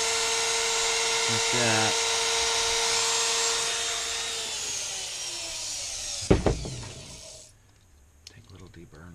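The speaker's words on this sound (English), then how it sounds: "Now to take the Dremel and give that a little kiss" A Dremel rotary tool grinds a fan mount for a rear-mounted fan, a loud steady high whine lasting several seconds before it spins down, followed by brief clatter and a short spoken remark.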